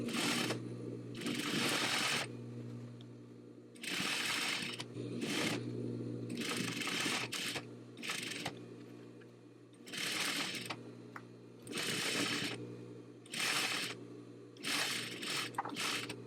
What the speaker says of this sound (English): I'm just going to fold the twill tape over and top stitch as close to the edge as I can